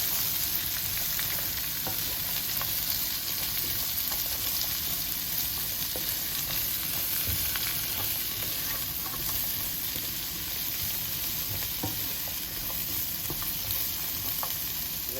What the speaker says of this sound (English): This one is a vegetable for soup or sauces. This piece of celery inside, 1 carrot, onion, and this special cabbage. We fry it first.